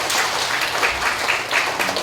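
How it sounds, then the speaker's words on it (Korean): An audience at a lecture on Korean reunification claps together, a steady wash of applause with slight surges, fairly loud and without speech over it. "찾겠다는 의지가 있는 분들 박수 한번 치세요"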